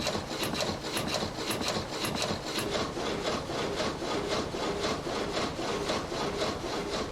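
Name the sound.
water-powered sawmill sawing wood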